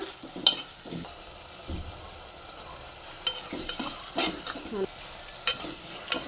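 Homemade ginger garlic paste frying in a pan after tomatoes, with a soft steady sizzle broken by occasional scrapes and taps of a stirring spoon, close and fairly quiet, no voices.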